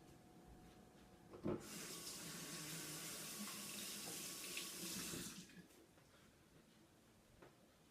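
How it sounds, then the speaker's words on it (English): A kitchen tap runs at a sink during handwashing: a steady, fairly faint rush of water for about four seconds, starting and stopping abruptly, with light handling noise before and after. "So let me wash my hands."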